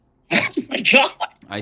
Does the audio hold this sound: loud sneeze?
yes